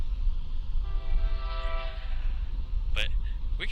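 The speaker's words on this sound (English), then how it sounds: "it looks like we have a train coming up" Train coming past near a rural road at night, a loud low rumble of rolling cars with a sustained horn blast partway through, heard from close by over wind-like noise.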